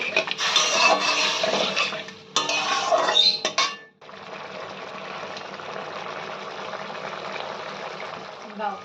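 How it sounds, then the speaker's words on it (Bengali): Eggplant, pumpkin and potato being stir-fried with a little water in a pan, a loud sizzle and scraping that breaks off briefly, then a softer continuous bubbling hiss. "এবার ভালো করে জল দিয়ে বেগুন এবং কুমড়ো এবং আলু ভালো করে কষিয়ে নিতে হবে।"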